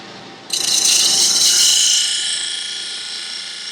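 Wood lathe with a thin-kerf tool starting a cut into a deep four-inch part of a lidded box, a sudden bright, high-pitched screeching hiss over a low motor hum that holds loudly, then eases slightly.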